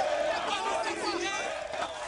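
Hostile crowd in Yopougon, Côte d'Ivoire, clashing with UN forces: a dense, continuous roar of many shouting voices, loud and close, with overlapping yells and no pauses.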